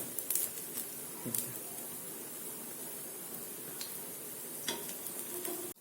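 Moong dal chilla fries in oil on a pan with a steady, bright sizzling hiss. A few light scrapes and taps of a utensil break through the sizzle.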